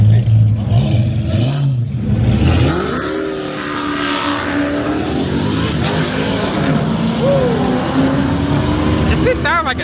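A Dodge Challenger Scat Pack engine revs at a car meet, its low throaty rumble rising and falling in loud bursts while excited people talk and shout nearby.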